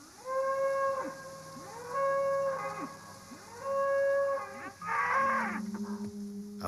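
Cattle in a large enclosure give a series of four long, loud moos at a steady pace, each a drawn-out bellow with rich harmonics, close by and heard without talk.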